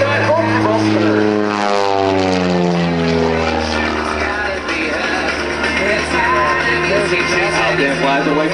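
Dan Marcotte's propeller biplane roars past at an airshow, a loud engine drone with a falling Doppler pitch sweep as it passes near.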